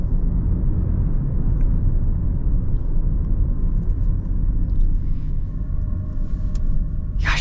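Steady low road rumble and engine hum fill the cabin of a 2024 Toyota Prius base model while driving, constant and fairly loud throughout with no speech.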